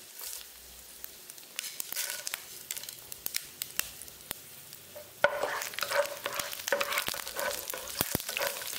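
Fennel seeds, cumin and black pepper fry in a pan, a soft crackling sizzle with sharp spatula clicks and taps, quieter at first and growing louder and denser partway through.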